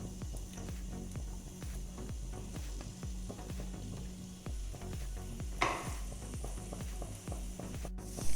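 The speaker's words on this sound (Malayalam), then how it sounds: "നമുക്ക് എണ്ണ ചൂടായതിന് ശേഷം ഇഞ്ചിയും വെളുത്തുള്ളി അരിഞ്ഞു വെച്ചിരിക്കുന്നത് ഇട്ട് കൊടുക്കാം." Chopped ginger and garlic fry in hot oil for an egg chilli dish, making a continuous close sizzle with a regular scraping and stirring rhythm throughout, alone without speech.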